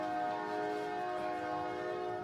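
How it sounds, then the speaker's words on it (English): A passing train's horn sounds outside a courtroom during a trial, a steady sustained blare with layered tones holding for a couple of seconds at moderate distance, with no talking. "Just let the train do its thing. train's getting some air."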